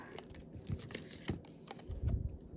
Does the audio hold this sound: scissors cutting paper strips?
yes